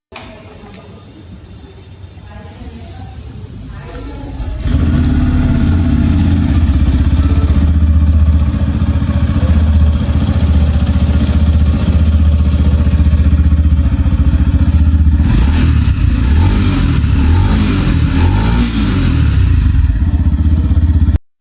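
A Yamaha FZ-S V4.0 Hybrid motorcycle's engine and exhaust sound close by, starting up after a few seconds into a loud, steady idle with mechanical clatter, then a few brief rev swells.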